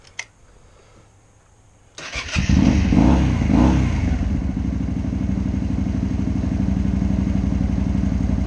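After a quiet start, a Honda XL Varadero 125 motorcycle engine with a freshly cleaned carburettor catches and settles into a loud, steady idle, with a slightly uneven chugging rhythm continuing to the end.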